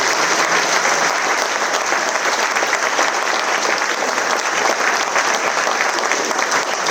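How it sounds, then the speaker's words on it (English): Sustained applause from a concert audience at a flute band charity concert, a dense even roar of clapping that continues steadily throughout at full volume. "So please give Patrick a round of applause."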